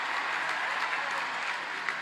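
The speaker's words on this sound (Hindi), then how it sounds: "उससे 100 गुना तालियां बजनी चाहिए" A crowd at an Olympic athletes' honouring ceremony in Lucknow applauds hockey goalkeeper PR Sreejesh, giving steady, moderately loud clapping with a faint voice underneath.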